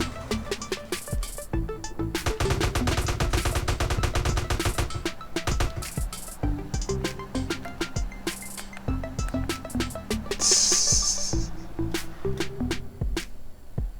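Rapid bursts of gunfire from the video game Cyberpunk 2077, dense volleys with sharp repeated shots and a sustained clattering stretch, loud and continuous with occasional pauses.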